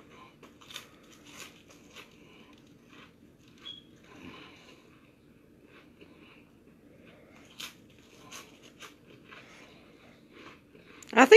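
Someone chewing saltine crackers during a timed eating challenge, with soft, intermittent crunching and mouth noises close to the mic, and a louder burst at the very end.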